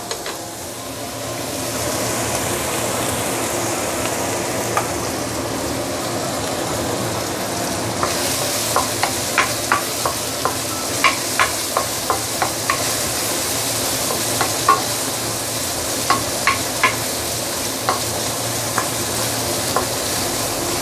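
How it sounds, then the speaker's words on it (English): Curry mee aromatics sauté in oil in a pan, a continuous close sizzle that swells after a couple of seconds, punctuated by a long series of sharp clacks and scrapes from a utensil stirring against the pan. "you want to saute for at least 2-3 minutes before we continue"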